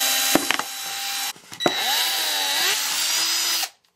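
A power drill drilling a hole in a plastic bottle whirs loudly up close in a few bursts, its pitch sliding up and down, with sharp clicks between runs.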